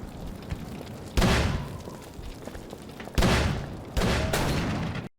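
Three heavy gunshots from the video game Call of Cthulhu: Dark Corners of the Earth, each a loud booming blast with a fading tail, spaced roughly a second or two apart.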